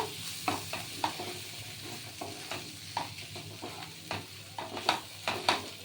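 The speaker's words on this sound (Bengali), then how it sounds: "একটু সামান্য মশলাটাকে একটু ভেজে নিয়ে" Ground spices, including coriander powder, fry in oil in a kadai for a fish-head rice dish, with a soft sizzle under repeated scraping and stirring clicks from a spatula.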